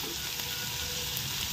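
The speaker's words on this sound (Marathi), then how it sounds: "आणि बघू शकता टोमॅटो वगैरे किती मस्त शिजत आहेत" Tomatoes and chili cook in a pan for paneer bhurji, giving a soft, steady sizzle and crackle that lasts only a moment, with no talking.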